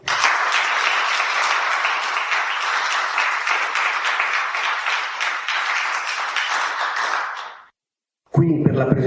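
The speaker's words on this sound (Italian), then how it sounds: "l'avvocato Antonio Ingroia, un grandissimo applauso." Loud, sustained applause from an audience welcoming a guest speaker at an Italian book presentation, with dense clapping for about seven and a half seconds before it cuts off. It is followed by a brief silence and then a new sound.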